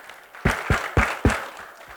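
An audience gives a short burst of applause for the expo panelists, with about four distinct loud claps landing in even rhythm over a low room murmur.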